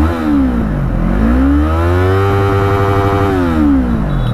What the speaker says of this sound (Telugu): ఎగ్జాస్ట్ సౌండ్ విన్నారు కదా